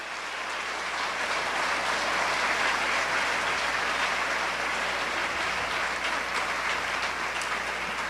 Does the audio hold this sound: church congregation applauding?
yes